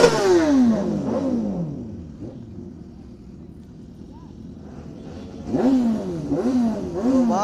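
Superbikes with loud exhausts on a Sunday group ride in Lucknow rev and sweep past, fading to a low idle before another bike roars by close up with rising and falling engine pitch. People talk over the sound.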